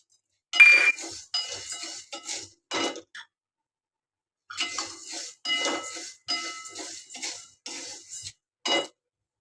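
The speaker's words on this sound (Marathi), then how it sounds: "आता त्याच्यामध्ये मी उडदाची डाळ घालते आणि एकत्र भाजून घेते" Horse gram and urad dal roast together in a dry pan on a home stove, stirred in short scraping, clinking bursts of metal against metal with brief pauses, close and fairly crisp, no talk.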